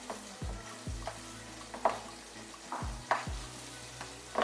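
Raw green mango pickle is stirred with Kashmiri chili powder, giving wet scraping and sticky squelching strokes with a few sharper clinks of the spoon against the bowl, close and with no talk.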